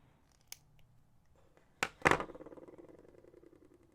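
Scissors snip through a crystal and chain necklace strand being redone before crimping, with a faint snip followed by two sharp close cuts and a ringing metallic rattle that fades away.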